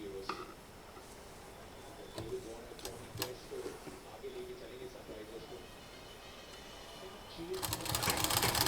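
A sewing machine stitches saree fabric into a single bed cover with a frill, its motor whirring in short bursts with rapid ticking needle strikes, then running louder and faster at the end.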